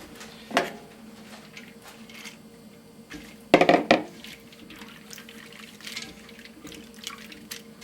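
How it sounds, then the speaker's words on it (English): Water pours from a tap into a container over about a cup of pumpkin seeds, with two short louder splashing bursts amid a steady low trickle and no talking. "so I'm putting in 4 cups of water"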